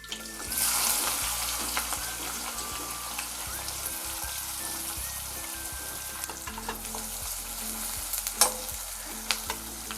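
Cumin, asafoetida, curry leaves and onion frying in hot oil in a pan, a steady crackling sizzle with bursts of stirring and a few sharp clinks of the spoon, loud and near.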